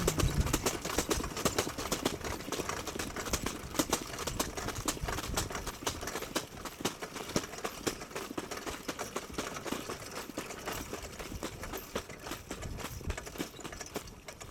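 Horses trot on a straight training track, their hoofbeats a dense, continuous clatter that holds steady at a moderate level for the whole stretch, with no voices over it.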